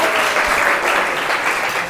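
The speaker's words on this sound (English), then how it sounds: "give a big round of applause" Classroom applause from students, a short burst of dense clapping at steady volume filling the room for under two seconds.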